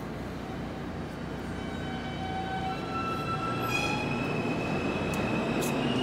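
A subway train rumbles steadily with rail noise, high squealing tones rising partway through, growing slightly louder toward the end.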